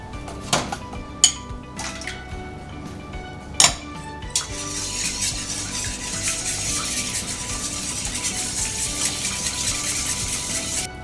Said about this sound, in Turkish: diğer yumurta ve sütü karıştırıyoruz